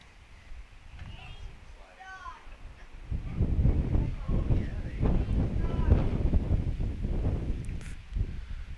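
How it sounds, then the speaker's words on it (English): A gust of wind sweeps across an outdoor amateur baseball game between two North Shore league teams, rushing and buffeting the microphone as it swells midway and stays strong, under ongoing talk. "That gust of wind right there coming a little bit late."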